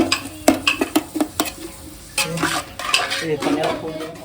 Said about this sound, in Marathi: तो कांदा परतून घेतोय